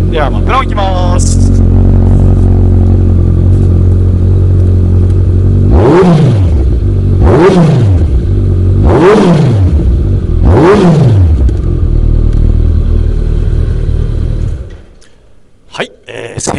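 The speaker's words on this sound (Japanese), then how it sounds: "1400cc のですね迫力のあるマフラーのサウンド、非常に気持ちよかったですね。" A Kawasaki Ninja ZX-14R 1400cc sport bike with an aftermarket dual-outlet exhaust idles with a deep, steady rumble, then gets four sharp throttle blips in even succession, each rising and falling quickly, close and loud, before the engine cuts off.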